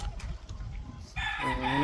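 A gamefowl rooster crows loudly and close by on a gamefowl breeding farm, a single drawn-out call rising over a busy background of other birds and farmyard noise.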